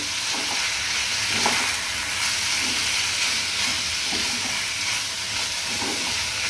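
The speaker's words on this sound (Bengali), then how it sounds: "দাঁড়ান এটা একটু নাড়িয়ে নিই" Curd pointed gourd curry stirred in a pan, a loud, continuous sizzle and hiss with rhythmic scraping strokes of the spatula every second or so.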